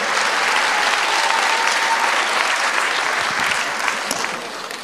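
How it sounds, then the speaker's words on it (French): Audience applause at the 2013 Handi Awards prize ceremony, a dense, steady roar of many hands clapping close by for about five seconds, easing slightly at the end. "on l'applaudit"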